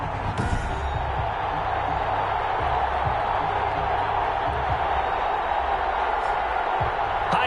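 Stadium crowd roar in an American football video game before a Carolina Panthers versus Las Vegas Raiders matchup, a steady dense wash of distant murmuring and cheering throughout with occasional low thumps.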